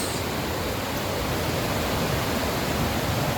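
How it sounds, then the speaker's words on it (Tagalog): Lulugayan Falls in Calbiga, Samar roars as a steady, broad rush of falling water, loud and unbroken throughout, with no speech over it. "Lulugayan Falls ng Kalbiga"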